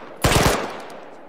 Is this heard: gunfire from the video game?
yes